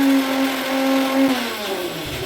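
A mixer grinder purées washed spinach leaves in its jar, the motor whining loud and close before its pitch slides down as it winds off.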